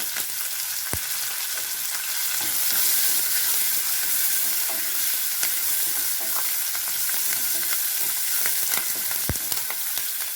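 Onions with curry leaves sautéing in hot oil for a cauliflower gravy, a steady close sizzle running throughout with scattered sharp clicks of a spoon against the pan and no talking.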